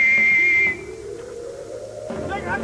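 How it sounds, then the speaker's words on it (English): A sharp, steady whistle tone sounds loud for under a second at the start, tied to a military commander's battlefield signalling system, then gives way to low rumbling ambience with a faint higher chirp near the end. "Ferguson had an elaborate system of whistle signals to communicate his orders."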